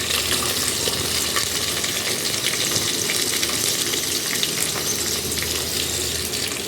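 Onion, carrot, potato and green peas stirred in a hot pan for vegetable pulao, giving a steady, close oil sizzle with faint scraping throughout.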